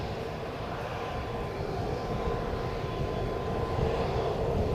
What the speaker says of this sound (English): Just wonderful, wonderful, beautiful looking aircraft.